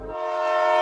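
A Grand Canyon Railway train sounds a steady, loud horn chord that swells slightly and holds for just under a second, with no voices.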